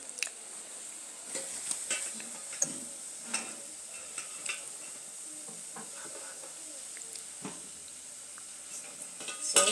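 Homemade doughnuts frying in hot oil, a steady bright sizzling hiss throughout with scattered light pops and clinks of a utensil against the pan, close by, swelling louder at the very end.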